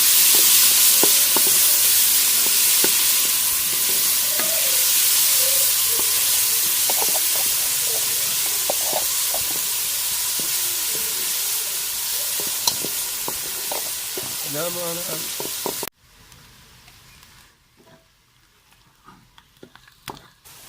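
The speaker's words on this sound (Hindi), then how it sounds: "प्याज डालना, इसको भून लेंगे।" Ground onions frying in a pan for a Pakistani fish fry masala, giving a loud steady sizzle with scraping stir strokes over it, then cutting off abruptly into quieter clatter near the end.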